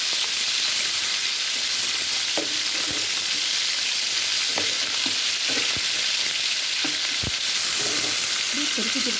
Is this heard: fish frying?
yes